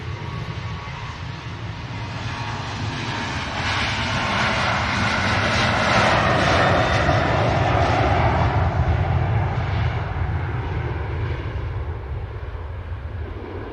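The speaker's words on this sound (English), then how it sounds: "Ryanair rotates, begins to climb" Ryanair jet airliner taking off and climbing away, a steady broadband engine roar that swells in the middle and slowly eases, heard from a distance with some wind on the microphone.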